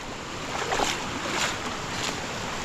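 Water of the Dumaka River flows steadily beside a farming area, a continuous broadband rushing wash close by with no voices.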